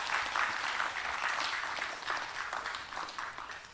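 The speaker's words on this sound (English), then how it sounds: "I think His Excellency deserves a more thunderous clap than that." Audience applause for a dignitary at an International Day of Older Persons event, a steady moderate patter of many hands that slowly thins toward the end, with no talk over it.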